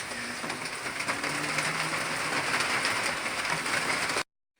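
Steady rain from Tropical Storm Dorian falls outside in Fredericton, New Brunswick, a dense continuous hiss of drops on surfaces that holds even and fairly close before cutting off abruptly.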